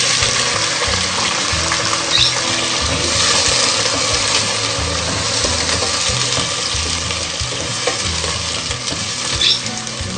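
Chicken pieces frying in a pan with browned onions for a Pakistani chicken korma, a steady loud sizzle and crackle that runs without pause, no one talking.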